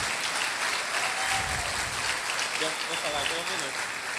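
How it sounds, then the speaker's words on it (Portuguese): A crowd at a health caravan event applauds as one continuous, dense wash of clapping, steady in loudness throughout, with faint voices underneath. "uma salva de palmas"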